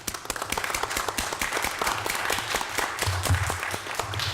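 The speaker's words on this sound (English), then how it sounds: "just really give him a round of applause" Applause fills a city council meeting in Linden for the head of the economic development crew, a dense crowd of hand claps sustained throughout at moderate loudness.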